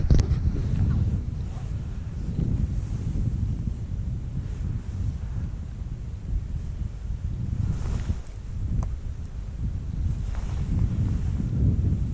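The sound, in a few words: wind while winter fly fishing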